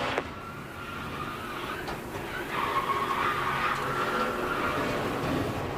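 A NASCAR Dodge Charger race car engine winds down as the driver lifts off the throttle, a steady mechanical roar with a tonal whine and track noise, moderately loud and continuous.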